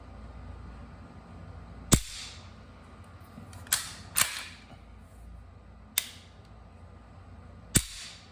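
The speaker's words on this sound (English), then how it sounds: "And we'll do the reset." A 35-year-old West German Sig P226 pistol dry-fired, its trigger reset giving five sharp, isolated metallic clicks spaced a second or two apart, close and crisp against quiet room tone.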